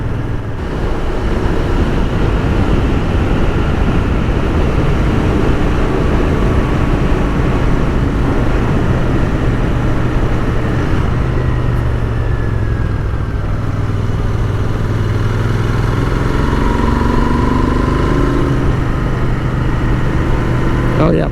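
A Royal Enfield Continental GT 650 motorcycle engine accelerating under throttle while riding, its steady drone running the whole time under heavy wind rush, with the pitch lifting midway.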